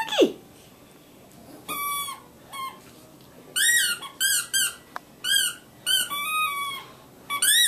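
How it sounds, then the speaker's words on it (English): A new squeaky dog toy squeezed repeatedly, giving sharp high-pitched squeaks in irregular bursts, some short and some drawn out, fairly close and loud over a quiet room. "It's a new squeaky."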